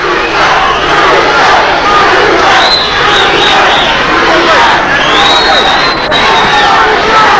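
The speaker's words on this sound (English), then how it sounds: "And the crowd, listen to the crowd." A packed 1985 Texas wrestling arena crowd roars and cheers during a tag-team match, loud and continuous with rising yells and whistles swelling through the noise, close and sustained throughout.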